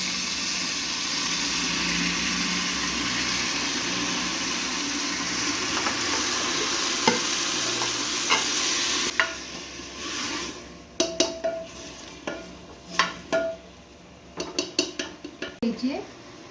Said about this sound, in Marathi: आता आपण टॉमॅटो चिरून घेतलेले ते यामध्ये टाकून घ्यायचे